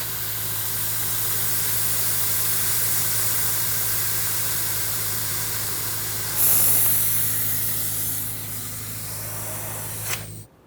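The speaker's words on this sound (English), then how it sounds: "you can do that by using either a vacuum pump with a little reservoir on it or a fluid transfer pump" A pump draws brake fluid out of the master cylinder of a 2000-2005 Ford Excursion, giving a steady hiss over a low motor hum for about ten seconds, with a sharper surge partway through before it stops.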